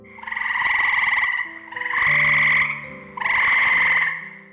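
Toads croak in three long, loud, buzzing bursts with brief gaps between them, close and clear, heavily processed with an electronic effect.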